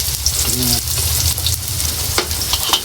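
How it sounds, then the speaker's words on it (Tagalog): Onion, garlic and ginger fry loudly in hot oil in a wok-style pan, a steady dense sizzle with a few stirring scrapes and clinks, no talking. "Mainit na po yung ating mantika sa kawali. Ilagay na po natin yung sibuyas, bawang,"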